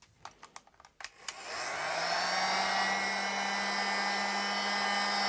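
A repaired Silverline hot air gun switches on after a few sharp clicks and handling knocks, then runs with a steady, loud, rushing fan whir and a constant low hum for several seconds.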